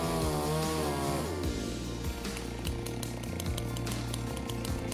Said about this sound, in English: since these gas saws are super loud